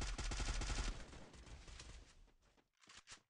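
Rapid automatic gunfire in the battle-royale video game Free Fire, a loud burst of fast repeated shots that thins into a few scattered, quieter shots near the end.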